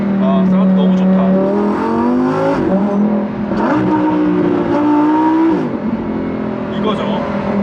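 A Lamborghini Huracán Evo Spyder engine revs loudly and close, its pitch rising and falling in repeated surges, with someone talking over it.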